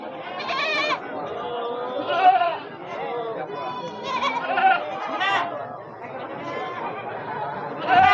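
Goats bleating repeatedly at the Wage Wadas livestock market, several calls overlapping up close amid a busy crowd of chattering voices.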